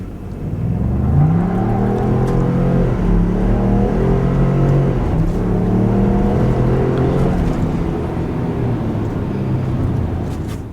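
A Ford F-150 Tremor or Chevy Silverado Trail Boss pickup pulls hard from a standstill to 60 mph, engine note rising through several gear shifts with steady loud cabin drone, no talking.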